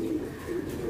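Pet pigeons coo close by in soft, low, rolling phrases, two or three throaty coos repeating over a quiet background.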